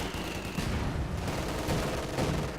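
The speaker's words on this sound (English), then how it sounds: "It's 2cm auto cannon, delivering a potent yield of high explosive shells" A 2cm autocannon firing high-explosive shells in the video game Company of Heroes 2, a dense continuous rattle of rapid shots and blasts, loud and unbroken with no talk.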